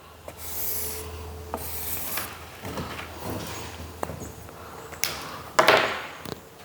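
A cloth soaked in denatured alcohol rubs marker off a vinyl plank, giving close, scratchy wiping strokes in uneven bursts with a few sharper knocks near the end.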